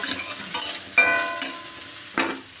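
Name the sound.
eggplant frying in oil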